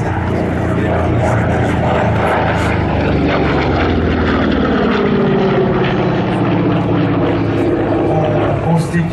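A Hawker Sea Fury propeller fighter flies past at an airshow, its loud engine roar sweeping in pitch as it passes, with a commentator talking over it.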